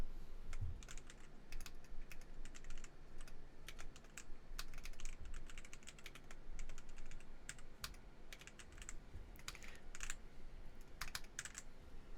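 Typing on a computer keyboard, a fast irregular patter of close, quiet key clicks running steadily throughout without speech.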